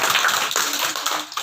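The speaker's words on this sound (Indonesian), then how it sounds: "Tepuk tangan." Guests at a child's seventh birthday party give a brief round of scattered hand clapping, light and close, with a few irregular claps trailing off.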